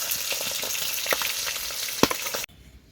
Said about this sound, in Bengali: এইভাবে সব মাছগুলো কিন্তু ভেজে নেব।